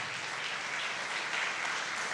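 A church congregation claps during a prayer-campaign service, with a steady wash of applause that is moderately loud and continuous over a couple of seconds, and no voices on top.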